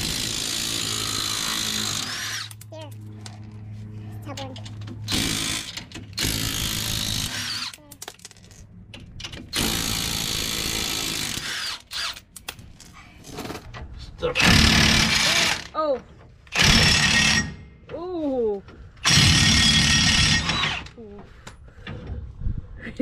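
Power tools working on the big rear leaf-spring U-bolts of a GMC Sierra during a lift job, in loud repeated bursts of whirring and rattling hammering between pauses, with people talking in between and under it.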